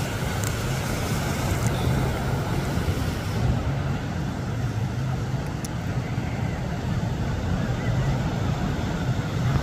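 Steady low engine drone of a small boat on open water, with wind and splashing waves mixed in, continuous and fairly loud throughout.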